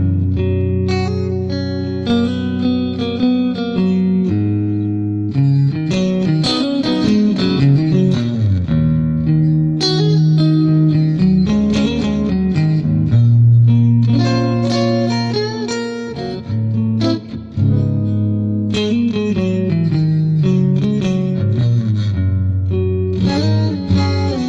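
Clean electric guitar played through a dry tube amp and clean cabinet, with software spring reverb and a twin tracker doubling effect, strummed and picked continuously at steady, full loudness with no talking.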